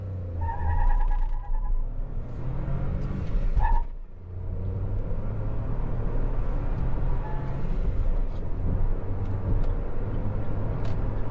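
Mahindra XUV300 SUV engine revving close by with traction control off, a steady loud drone with a brief dip midway before the engine settles back into a sustained hum.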